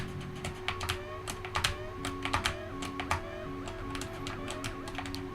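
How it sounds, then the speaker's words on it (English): Computer keyboard keys pressed during gaming, a string of crisp close clicks tapping in an uneven rhythm over a steady low background hum. "If my key pressing is loud enough, you can perhaps even hear me press the keys"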